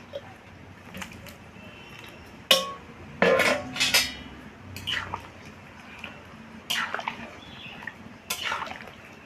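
Fried potatoes are tipped into simmering goat curry gravy in a pot, with sharp metallic clanks of a utensil on the pot and soft, wet splashes.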